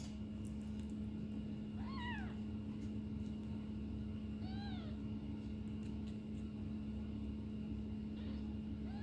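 Kittens meow in short, rising cries that come in three separate bursts over a steady background hum, with the young cats squabbling close by.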